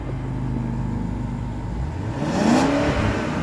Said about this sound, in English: We're going to go to the back and do a little rev time with Trish.